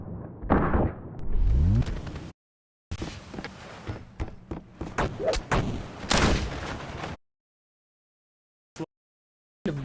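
Bursts of gunfire and bullet explosions from the Unity-built game Karlson, with loud sharp shots, rapid crackling impacts and a sweeping effect, broken by sudden gaps of silence and a couple of isolated late pops.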